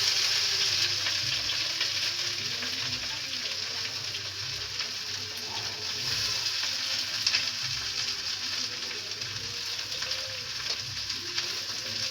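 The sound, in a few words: onions frying in a pan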